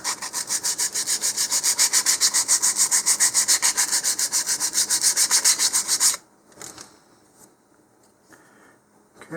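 A model rocket part is sanded with 150 grit sandpaper in fast, even back-and-forth strokes for about six seconds, close and loud, followed by faint handling sounds.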